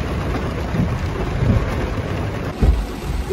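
Steady rain falls outdoors on a wet day, a dense hiss with close drops and low rumbling thumps, heard alone without voices.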